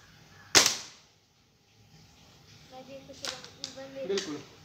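Warm-up gunshots fired at a target: one sharp, loud report near the start, then a few quieter impacts and clicks later, with talk in the background.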